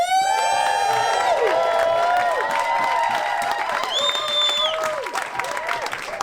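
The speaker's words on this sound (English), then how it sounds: "Now let's give a very big cheer to Jack rather than Jess." Wedding guests at a reception cheer for the groom, Jack, with a sustained roar of whoops, high shouts and clapping that holds steady before tapering slightly at the end.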